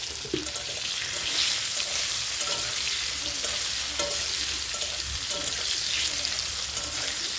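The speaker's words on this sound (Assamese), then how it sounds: "মোৰ অমিতা আৰু আলুখিনি ফ্ৰাই কৰা হৈ গৈছে।" Papaya and potato pieces fry in a pan with a steady sizzle, broken by occasional scrapes and knocks of stirring, close and alone with no talk.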